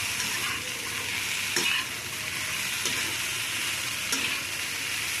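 Pumpkin curry being stirred in a pan, a continuous loud sizzle of frying with scraping strokes of a spoon and a few sharper knocks against the pan, close up with no talking.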